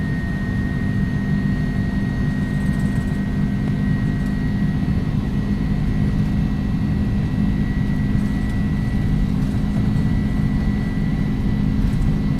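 An Airbus A300-600F jet on its takeoff roll in the X-Plane 11 flight simulator, a steady loud engine roar with a constant whine held throughout, no voices.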